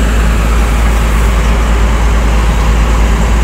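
Steady, loud droning hum from the rear of an ALS intercity bus, the air-conditioning cooler engine running continuously with a deep low rumble and broadband hiss, close up and unchanging.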